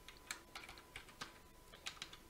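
Keys on a computer keyboard tapped in a short, irregular burst of light clicks, close up and fairly quiet, with no talking.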